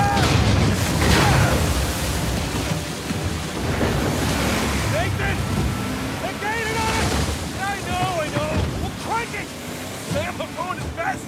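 A speedboat in Uncharted 4 crosses ocean waves, a continuous broadband rush of surf and wind noise with a motor churning beneath. A voice talks through part of it.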